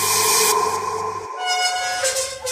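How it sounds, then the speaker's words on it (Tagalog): A loud vehicle horn sounds outside a gate, with sustained toned blasts that change pitch partway through over about two and a half seconds, and no voices. "narinig namin ang malakas na busina ng sasakyan sa labas ng gate."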